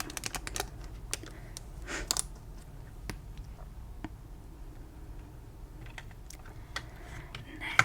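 Thin plastic packaging around Disney pins crinkles and clicks as it is handled up close, with quiet sharp taps and soft rustles scattered irregularly through a calm, whisper-quiet setting.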